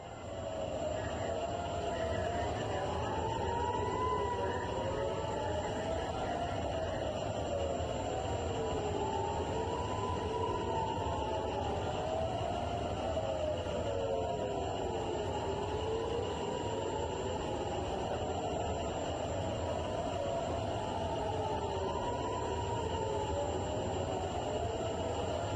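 Air raid sirens wail over Tel Aviv, their pitch rising and falling in long overlapping sweeps that carry across the city, distant and steady against a constant background hiss.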